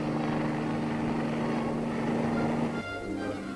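A military helicopter in the field during a 1952 army exercise, its rotor drone steady and fairly loud throughout, changing tone near the end.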